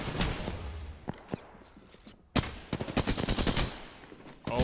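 Rapid bursts of video game gunfire crack out in clusters, one sharp shot early, then a dense volley of close, loud shots in the last two seconds, with a brief quiet gap in between.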